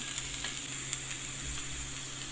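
Onion and boiled ballıbaba leaves frying together in a pan, a quiet continuous sizzle with faint soft stirring scrapes, close and even for a couple of seconds.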